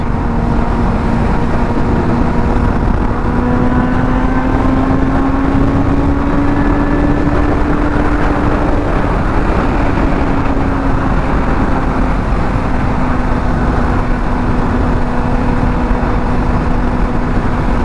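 A Honda F4i sport motorcycle cruises on the highway, its engine droning at a steady, fairly constant pitch alongside loud, continuous wind rush for the whole stretch, with no talking.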